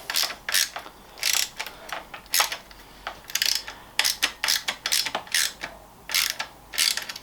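A ratcheting spanner tightens a bolt on a bicycle, giving repeated bursts of crisp metallic clicking in an uneven rhythm, close and alone.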